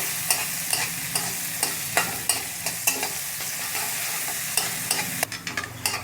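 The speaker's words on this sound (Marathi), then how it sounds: "फाईन चॉप केलेला कांदा आहे बरं का तो. तर त्याला थोडासा सोनेरी होईपर्यंत फ्राय करून घ्यायचा आहे." Finely chopped onion with cumin sizzles steadily in hot oil while being stirred, a spoon clinking against the pan at regular intervals over the continuous close frying hiss.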